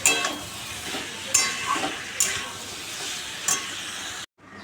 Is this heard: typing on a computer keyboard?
no